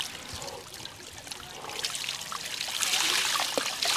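Hot spring water trickles and patters off a body in a soft, continuous stream close by, with a faint hiss that grows a little louder toward the end.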